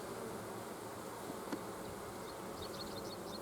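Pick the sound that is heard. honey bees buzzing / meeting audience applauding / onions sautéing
honey bees buzzing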